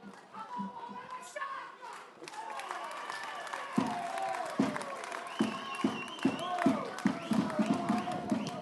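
Sciacca football fans in the stands applaud their team at an Eccellenza Sicilia match against Castellammare, with scattered claps growing into a steady, moderately loud round of clapping mixed with crowd voices.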